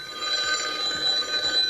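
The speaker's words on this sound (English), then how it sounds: "Answer the phone." A studio telephone rings repeatedly with a bright electronic trill, even and fairly loud, cutting through a quiet room during a live on-air call-in show.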